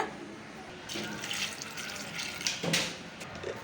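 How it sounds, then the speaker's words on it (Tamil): Soaking water from rajma and black urad dal pours into a cooking pot with a continuous splashing, gurgling flow that swells and fades at moments over several seconds. "ஊர்ன தண்ணியை யூஸ் பண்ணி இதை வந்து நம்ம நல்லா வேக வச்சு எடுத்துக்கலாம்"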